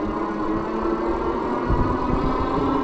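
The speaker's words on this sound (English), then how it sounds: "Yeah, I'd say the motor noise is about average." Aventon Aventure 3 ST fat tire e-bike motor running while riding, a steady low-pitched hum with a rumbling texture, close and continuous, with no one talking.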